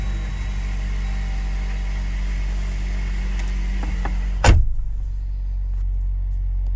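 A 2020 Jeep Wrangler engine runs with a steady, close low rumble, broken by one sharp thump partway through, after which the hiss eases; no voices.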